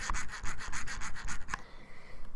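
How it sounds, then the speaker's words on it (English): A Taranis Q X7 radio transmitter gimbal being moved back and forth, its V-shaped ratchet piece scraping across small grooves, giving a quiet rapid series of rough rubbing clicks, close up, ending in a faint scrape. "that sound is actually coming from this one right here with the V-shape in it, touching the little grooves on this thing."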